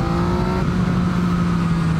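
A 2019 Yamaha MT-09 motorcycle engine hums steadily at close range with a strong, even low drone. Its pitch sags slightly partway through, and no voices can be heard.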